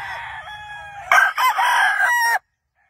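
A gamefowl rooster crows once on a farm, a loud, close cock-a-doodle-doo that cuts off abruptly, preceded by faint clucking.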